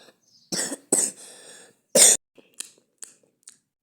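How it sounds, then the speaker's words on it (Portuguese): A person coughs several times, with two sharp, close coughs followed by a louder one and then softer throat-clearing sounds and small noises. "E eu vou tossir."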